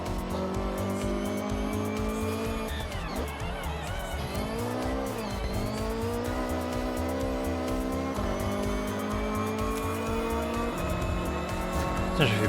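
A muscle car in the Forza Horizon 6 racing game revs and accelerates with a continuous loud engine note, shifting pitch with gear changes and brief tire squeal, under occasional talk.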